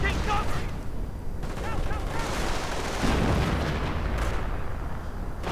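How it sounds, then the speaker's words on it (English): Grenades and gunfire crackle and boom through a video game battle in Company of Heroes style, a dense, continuous wash of explosions and shots with a louder blast near the middle, under a commentator's voice. "Grenades being exchanged."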